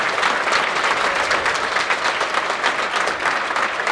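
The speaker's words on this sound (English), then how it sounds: "one more round of applause for this amazing group of cast members" A theatre audience gives a steady, dense round of applause for a cast of performers, loud and continuous throughout with no talk over it.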